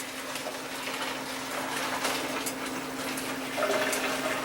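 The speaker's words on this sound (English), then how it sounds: "I'm gonna dump the water into the bowl that I mixed it all up with" Water from boiled Hungarian nokedli dumplings poured out of a pot into a mixing bowl, a steady rushing splash and gush that swells louder toward the end.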